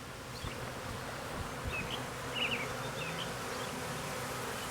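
A bee swarm being captured into a hive outdoors, producing a dense, steady buzzing hum that fills the whole clip at close range with no talking.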